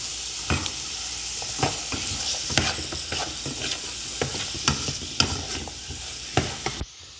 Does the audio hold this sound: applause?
no